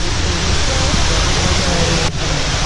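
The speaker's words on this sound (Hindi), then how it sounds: "तो ऊपर से वाटरफॉल आ रही है, पानी गिर रही है" A small waterfall in Mussoorie's Company Garden pours down as a loud, continuous broadband roar of falling water, close and steady, with crowd voices blended underneath.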